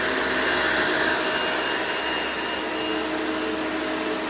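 Hoover Elite 200 U4467 upright vacuum cleaner, a direct-air model with weak suction, runs steadily up close with a loud, even motor whine and airflow roar that holds the whole time, with no voices.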